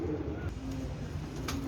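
Low, soft cooing of crested pigeons murmuring nearby, partly blended with faint background noise.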